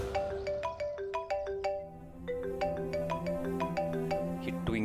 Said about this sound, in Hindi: ये ट्विंकल क्यों फोन कर रही है इस टाइम?